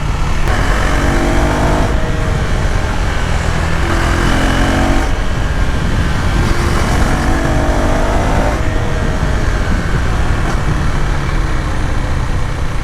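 KTM Duke 390R motorcycle under way on a hilly road, engine loud and close, rising through the gears in repeated climbing pulls with shifts between them, over constant wind rush.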